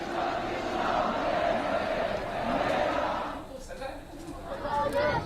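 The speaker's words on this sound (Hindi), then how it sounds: "बांग्लादेश में एक हिंदू संस्था ने सामूहिक तौर पर भजन गाकर अपना विरोध जताया।" A crowd of Hindus gathered in Bangladesh sing bhajans in protest, a dense mass of voices swelling and ebbing at a moderate distance, with a brief dip and a few clearer voices near the end.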